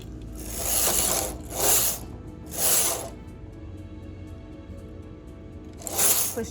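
A knitting machine carriage sliding across the needle bed to knit a row, making repeated raspy ratcheting sweeps a second or so apart that are close and moderately loud, separated by quieter mechanical clicks.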